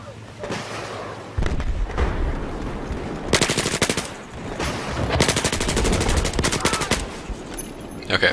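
Battlefield 4 gunfire, with repeated loud bursts of rapid automatic shots in rattling volleys, some close and sharp, mixed with booms and battle noise, while a voice talks in between.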